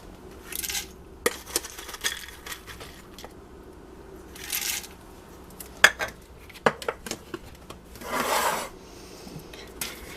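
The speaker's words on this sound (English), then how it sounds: "we're going to add a cup of green beans" A cup of dried green beans goes into a soup pot for chicken vegetable soup: scattered rattling, scraping and clinking of hard pieces against metal in several short bursts, close and fairly quiet, with pauses between.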